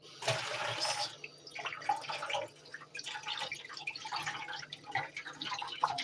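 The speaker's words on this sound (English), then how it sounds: "let's rinse this off underneath the sink a little bit" A pork chop rinsed under running water at a kitchen sink, the stream splashing and dripping unevenly at close range, with no talking.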